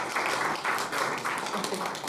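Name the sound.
audience applause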